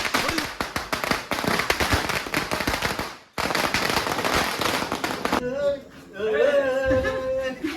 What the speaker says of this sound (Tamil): சின்ன பாம்